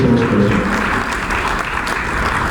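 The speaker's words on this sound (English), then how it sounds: "let's give a round of applause to our distinguished panelists and resource person." An audience at a live-streamed Philippine panel forum applauds its distinguished panelists and resource person, a sustained wash of clapping with a faint voice briefly underneath.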